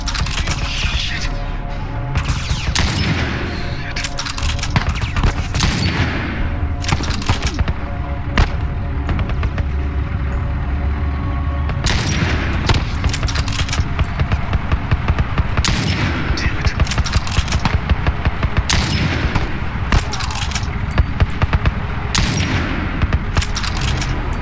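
Gunfire from The Last of Us game combat: dense, continuous bursts of shots and booms through the whole stretch, loud and close, with rapid volleys and heavier blasts layered over a rumbling background.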